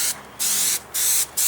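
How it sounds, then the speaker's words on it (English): Three short hissing bursts of sticky spray adhesive from an aerosol can, each roughly a third of a second long with brief pauses between, close and fairly loud, applied for a teepee project. "So we're just going to spray a nice little coat of this on there"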